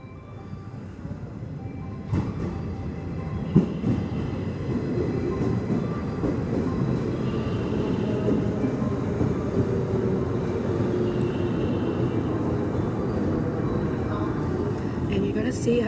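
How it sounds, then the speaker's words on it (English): Train pulling into a station platform in Japan, a low steady rumble that builds and holds with a few faint clunks, heard close with murmuring people nearby. "the train is coming"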